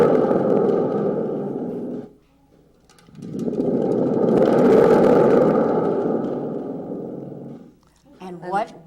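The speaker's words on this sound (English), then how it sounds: "This is called a thunder drum." A gourd thunder drum with a spring being shaken, giving long rumbling, booming roars in two sustained swells separated by a short pause, loud and close, ending with a brief wobbling twang.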